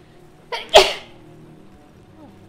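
A single sharp sneeze, loud and close, with a short intake followed by an explosive burst, alone in a quiet room.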